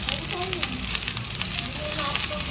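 Carrots and cabbage sizzle and crackle steadily in a hot pan, a dense continuous frying hiss with faint stirring scrapes, while a person talks quietly in the background.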